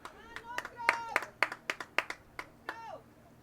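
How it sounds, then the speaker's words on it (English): Scattered hand claps from Bruin fans at a boys high school soccer match at Southside Archer Park, several distinct sharp claps with a faint shout or two, moderately near against quiet crowd murmur. "The Bruin fans trying to cheer on their boys here at Southside Archer Park."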